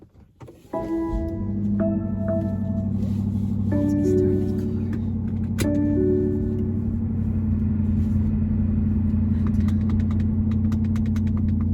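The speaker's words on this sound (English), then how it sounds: "Let me start the car." Car engine cranking and catching inside a dark home garage, followed by a steady low idle with a few tonal chimes and whirs over the first seconds, then a continuous close rumble.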